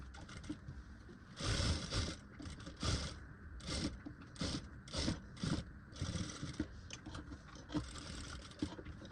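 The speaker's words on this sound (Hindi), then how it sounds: "चलिए इसको सिलाई करते हैं" A sewing machine stitches piping onto a princess-cut blouse in short stop-start bursts of whirring and clatter, close and fairly quiet, with no talking.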